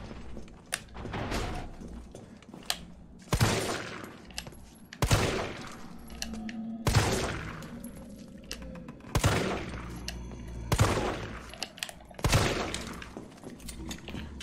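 Repeated gunshots in the Resident Evil 3 video game, about seven sharp loud blasts spaced a second or two apart over a low ambient game backdrop.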